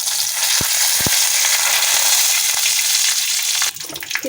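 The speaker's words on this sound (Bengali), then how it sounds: "দিয়ে দিচ্ছি জিরে ফোড়ন, দিয়ে দিচ্ছি তেজপাতা, গরম মশলা" Cumin seeds, bay leaf and garam masala hit hot white oil with a loud, dense sizzle and a few sharp crackles and pops. The sizzle drops off abruptly near the end.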